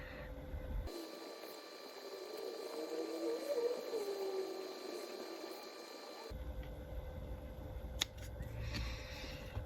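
Trimming a rubber RC buggy rear tyre down into a front tyre: a steady, close scraping cut with a faint tonal squeal that runs for several seconds and then stops, followed by a few small clicks and rustles.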